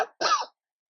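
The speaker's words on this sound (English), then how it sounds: "and you got a cough, you don't cough in your hand." A short, sharp human cough sounds up close as a brief burst followed by a second, louder throaty cough, then silence.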